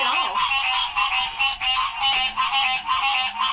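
Frogs outdoors during night frogging for crawfish and frogs in Louisiana croak in a continuous, pulsing chorus, moderately loud and close, with no talking.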